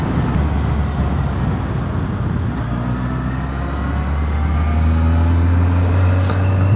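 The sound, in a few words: Honda 954 Fireblade motorcycle riding on road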